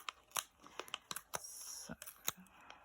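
Backing peeled off black Tonic Studios foam tape for a craft project, with quiet crinkly tearing and sharp little ticks in an irregular series, close up and faint.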